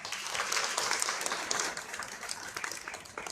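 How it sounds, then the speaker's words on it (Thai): Applause from an audience at a university creator event for three people, steady and moderately distant, filling the short stretch without talk over it. "ขอเสียงปรบมือให้ทั้งสามท่านครับ"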